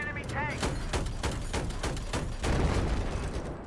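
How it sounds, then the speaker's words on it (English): Rapid cannon fire, tank-style, in Battlefield 4: a quick run of sharp, loud bursts spaced roughly every quarter second, with someone talking over the shots. "I'll just use the cannons here."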